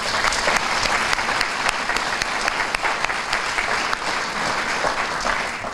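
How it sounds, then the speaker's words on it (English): Sustained applause from an audience at a community breakfast, a dense, even wash of clapping hands filling the room for several seconds. "Let's hear it for Nate."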